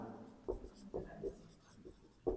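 Pen scratches on paper while a math answer is written out for a Class 10 NCERT exercise, several short strokes close by under quiet spoken explanation.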